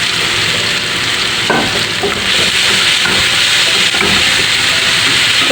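Onion and drained tuna sautéing together in a hot pan for tuna bread filling, giving a loud, constant hissing sizzle with faint stirring scrapes and no talking.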